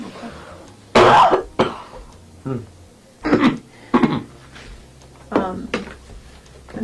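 Several harsh coughs and throat-clearing bursts come in separate bouts, close and loud, with short quiet gaps between them.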